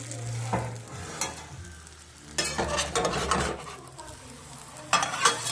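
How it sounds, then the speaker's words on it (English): Egg foo yung fries in a pan with a steady sizzle while two turners scrape and stir, then flip it with a few sharp clatters of metal on the pan. The sounds are close and there is no talking. "I'm going to flip one side first using 2 turners"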